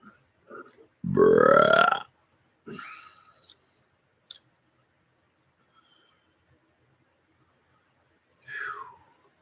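One loud, close belch on request rises in pitch over about a second, followed by a shorter burp, a faint click and a final small burp after a pause, with silence in between.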